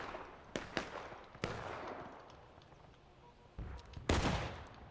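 Musket fire in the Civil War video game War of Rights, with several sharp distant shots cracking at irregular intervals and a louder volley near the end.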